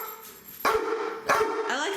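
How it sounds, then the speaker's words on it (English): A pet dog barks twice, close and loud, with short yips at home during an offer of a walk, while someone talks excitedly. "I like how he just barks."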